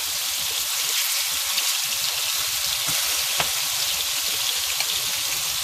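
Oxtail pieces brown in a hot pot, giving a dense, continuous sizzle and crackle with scattered sharp pops, close and steady throughout without any talk.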